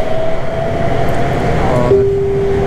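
A Bangkok Metro Blue Line train carriage rumbles steadily with a dense, continuous low roar, a thin tonal whine running through it that steps to a new pitch near the end, heard from inside on board.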